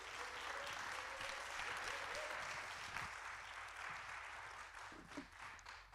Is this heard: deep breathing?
no